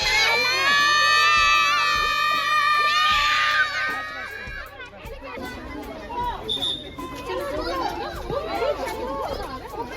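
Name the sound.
children shouting and cheering on a school trip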